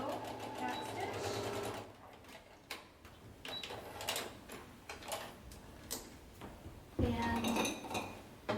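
A sewing machine back stitching a fabric face mask, its needle chattering in short quiet runs between pauses, with faint clinks and handling noises.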